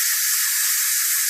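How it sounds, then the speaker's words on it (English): Steam escapes from a pressure cooker used to cook pasta, a steady, loud, unbroken hiss with no voices. "letting the steam out"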